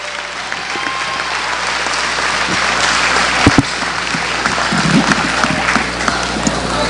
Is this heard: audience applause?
yes